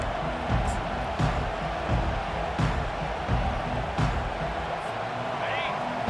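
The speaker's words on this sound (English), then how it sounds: "This crowd, full throat, splitting the eardrums" A packed football stadium crowd at a Wisconsin at Ole Miss college game roars in a steady, loud wall of cheering with a few sharper swells, heard alone.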